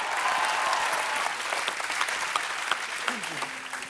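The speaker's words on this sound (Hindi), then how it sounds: "जोरदार तालियां एक बार।" A studio audience on a Hindi TV comedy show applauds loudly and continuously, thick clapping filling the whole stretch and easing slightly toward the end, with faint voices underneath.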